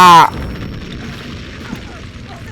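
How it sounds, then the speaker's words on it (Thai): A short, loud blast from an explosion in the game Battlefield V bursts at the start, then fades into a low rumbling battlefield background with faint distant activity. "ระเบิด"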